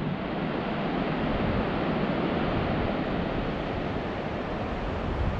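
A meltwater stream flowing down from the Alibek glacier in the Dombay mountains rushes in a dense, continuous roar, close and loud, with no voices.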